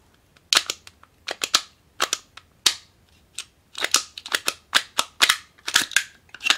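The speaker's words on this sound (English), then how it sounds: "With that pin out, you let the slide ease forward and pull the trigger." Sharp metallic clicks and clacks from a Kahr CM 45 pistol being field stripped, slide removal and handling, come in irregular bursts of close, crisp snaps with short pauses between them.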